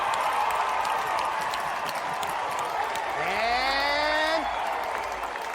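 Audience applause and crowd noise at the Devolver Digital E3 2018 press conference, a steady wash of clapping throughout, with a rising and bending musical tone or voice cutting through near the end.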